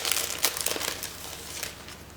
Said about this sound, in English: Let me just take out the plastic.